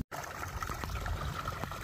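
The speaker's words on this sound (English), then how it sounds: "letting some water flow. Not a whole lot, just enough to, I'm sure you guys can hear it." Water trickling and flowing steadily through a partly opened beaver dam on a farm, a soft continuous wash heard quietly and without talk.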